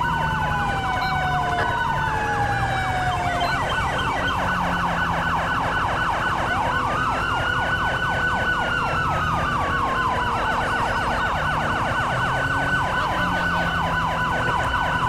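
A wailing police siren sounds continuously and loud in GTA 5 LSPDFR during a code 3 response, rising and falling sweeps layered over steady road and engine noise with no talking.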